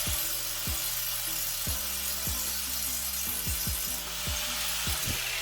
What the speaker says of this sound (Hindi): चलिए एजेस को कुछ ग्राइंड करते हैं